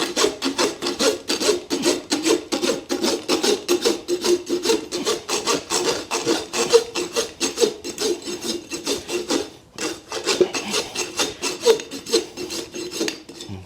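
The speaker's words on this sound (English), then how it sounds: "what I'm going to do is just rasp those clinches off" Steady rhythmic strokes of a farrier's rasp filing the clinches off a horse's shoe, a rough scraping repeated in quick succession, close and loud, with a brief pause near the middle.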